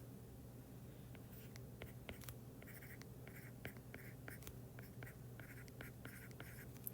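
A pen scratches softly across paper as a math review note is written by hand, in quick irregular strokes over a faint steady room hum, close but very quiet.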